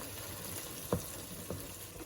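Fresh tomato puree fries in a pan for homemade pizza sauce, a quiet sizzle broken by two brief spoon scrapes as it is stirred.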